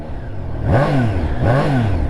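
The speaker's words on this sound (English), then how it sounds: "got that very smooth triple sound, very punchy throttle at lower speeds" A Triumph Trident 660 motorcycle's triple-cylinder engine revs twice in quick succession, each loud, close blip sweeping smoothly up and back down.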